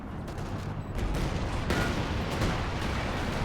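Dense, continuous battle noise from the video game Company of Heroes 2 in a 4v4 match, with overlapping gunfire, rocket blasts and rumbling explosions that form a steady loud wall of combat sound.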